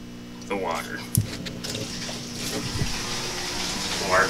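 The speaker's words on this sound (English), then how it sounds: "So to top off my water barrel, I just come over here and I turn on the water." Water tap turned on to top up a water barrel in a fish room, the flow gushing steadily and filling through filters and pipe, with a short clunk near the start and a person talking over the running water.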